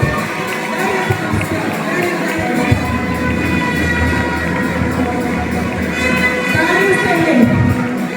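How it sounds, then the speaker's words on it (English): A crowd at a school Independence Day celebration cheers and applauds, a loud steady wash of clapping and voices with no pauses, indoors and close. "Shall we not give him a huge round of applause?"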